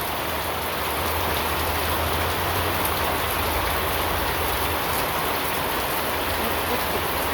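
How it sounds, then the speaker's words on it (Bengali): Rain falls as a steady, broad hiss of drops hitting surfaces, holding even and moderately loud throughout, with a low hum fading out midway and no voices. "বৃষ্টি নামছে"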